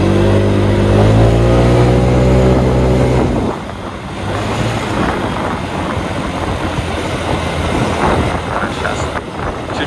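A Yamaha Gear utility scooter engine climbs a hill, with a steady, loud drone that rises in pitch and then drops into rougher, busier road and wind noise.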